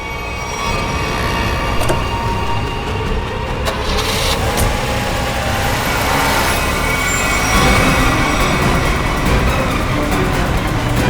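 A car is driven out, its engine and road rumble loud and steady for the whole stretch.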